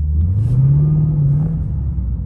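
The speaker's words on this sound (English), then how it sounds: "My tires literally just burned out off a tiny little step on the gas." A Lexus RC F in sport mode spins its tires on a wet floor, giving a loud, close engine rev with a rising, droning whine that swells and then eases off.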